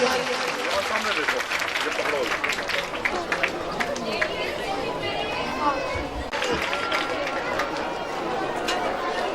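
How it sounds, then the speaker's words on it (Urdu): Audience applause at a school annual prize-giving function, sustained clapping from a large crowd with chatter and babble mixed in throughout, fairly loud and steady. "تالیاں."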